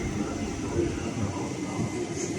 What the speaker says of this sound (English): There's the train arriving.